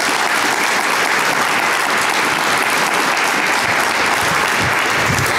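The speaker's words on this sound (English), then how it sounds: "I want to give a round of applause for all those volunteers" A large audience applauds volunteers at an evening incubator event, loud, dense and sustained clapping that fills the whole stretch at an even level.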